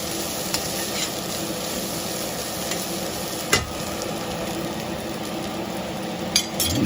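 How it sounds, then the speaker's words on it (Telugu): Bitter gourd frying in a pan, giving a steady close sizzle with a few sharp utensil clicks now and then. "కాకరకాయ కాలేదు, ఇంకా కొంచెం ఫ్రై అయిన తర్వాత అప్పుడు"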